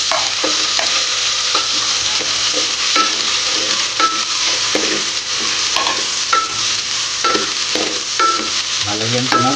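Garlic and onion sautéing in oil in a pan, a continuous loud sizzle broken by regular scraping and stirring strokes of a utensil, close up with no voices.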